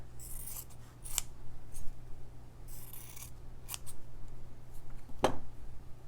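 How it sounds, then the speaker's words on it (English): Scissors snipping green fabric into a box shape for a stitching background piece, a few separate crisp cuts with soft rustling of cloth between them, close and quiet. "I'm going to take a little of this green for the background piece, and I'll cut my box shape."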